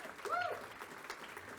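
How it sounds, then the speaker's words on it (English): Brief, fairly faint clapping from an audience at an awards celebration evening, a steady patter that carries through the short stretch, with a faint tonal sound over it near the start. "I just give everybody a round of applause"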